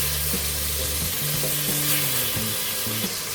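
Smoked pork belly frying in a soup pot, a steady close sizzle with crackling fat, joined by a few stirring scrapes and clinks of a utensil against the pot.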